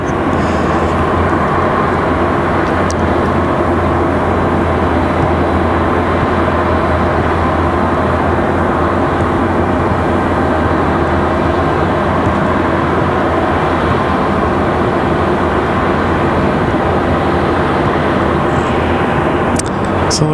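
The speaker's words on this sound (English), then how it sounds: "So it looks like we got one of those E-175s ready for departure." An Embraer E-175 regional jet departing runway 23 right at Raleigh-Durham International Airport, a loud, steady, broad engine roar that holds unbroken and close throughout.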